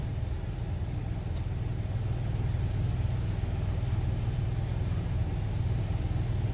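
A vehicle engine runs to charge lithium house batteries through a transfer switch, giving a steady low rumbling idle that stays even and fairly loud throughout, with no talking.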